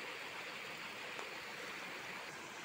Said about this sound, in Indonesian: Dengan debit air yang cukup memadai, jernih dan cukup deras.